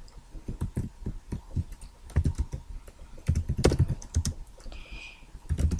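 Fast, steady typing on a nearby computer keyboard during a Minecraft session, dense clattering keystrokes running throughout at a fairly loud level, with no talking over them.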